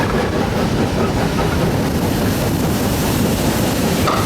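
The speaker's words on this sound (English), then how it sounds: "There is some scrap locos that were just passing." Scrap locomotives, Janus engines converted to one-man operation, passing on an industrial steelworks railway, a loud steady rumble and roar of rolling stock close by without distinct clicks.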